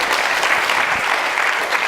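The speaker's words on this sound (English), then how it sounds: "Hand clap real quickly." Quick burst of audience hand clapping at a university leadership speaker series, dense and steady throughout at moderate loudness, with no talking.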